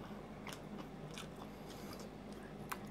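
Crunchy biting into cranberry hazelnut crisps, one of several flavors alongside salted date almond and rosemary raisin pecan; close, repeated crisp bites and crackles over a steady background hiss, with no talking.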